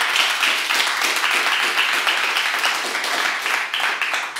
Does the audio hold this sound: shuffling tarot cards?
no